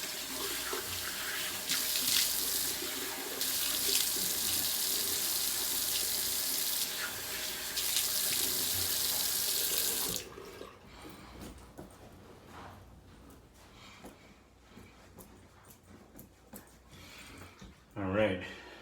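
A tap runs steadily into a sink for about ten seconds as a razor is rinsed after a head shave, then shuts off, leaving quieter handling noises and a brief clatter near the end.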